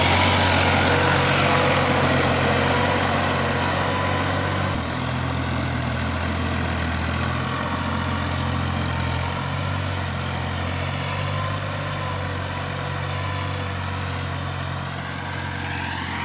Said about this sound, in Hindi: ट्रैक्टर स्लिप मारता वैसे स्लिप मार रहा जी